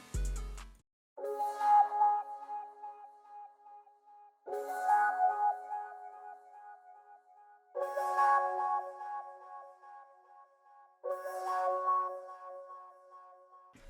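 The Legalize synth pad, layered with a sampled vocal, sounds four sustained chords, each entering with a breathy swell and slowly decaying before the next, soft and alone.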